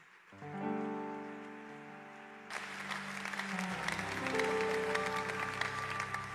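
A church congregation applauding and cheering, a dense patter of clapping that swells in after a sustained organ-like tone fades out, loud and continuous to the end.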